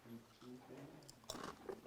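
Thin-sliced crispy lotus root chips are bitten and crunched up close, several quick crisp crunches following faint speech at a festival home-shopping stall.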